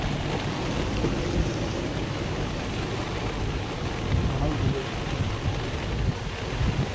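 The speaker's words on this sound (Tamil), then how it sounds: "மழை பெஞ்சிட்ருக்கு, தெரியுதா?" Heavy rain pours at sea on a fishing trip off Chennai, a dense, steady roar mixed with wind buffeting the microphone and surf, close and loud throughout.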